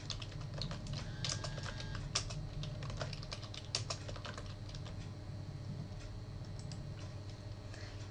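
Fast typing on a computer keyboard as a WordPress blog post title is entered, with soft, irregular clicks of key presses over a quiet room hum.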